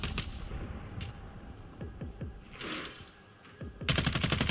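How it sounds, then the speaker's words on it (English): Gunfire in Call of Duty: Warzone, a sniper rifle shot among scattered distant reports, with several sharp cracks and thuds through the middle and a dense loud burst at the end. "He just took a snipe at me."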